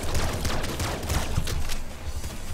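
Fully automatic pistols rattling off in Nuclear Throne, a dense, continuous burst of rapid gunfire at steady loudness lasting the whole stretch, with no voice over it.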